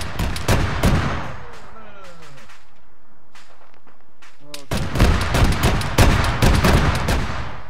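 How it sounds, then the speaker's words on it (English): Rapid bursts of rifle and machine-gun fire crackle through a night firefight in the military game Arma 3, with a quiet lull and whooshing tones before the shooting resumes heavily. "We're taking heavy fire."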